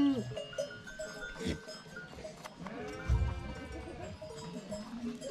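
Goats and sheep bleat at close range on a Turkish village farm during shearing and livestock transport, with several overlapping calls, a low thump midway and someone speaking now and then.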